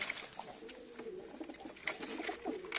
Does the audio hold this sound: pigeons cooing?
yes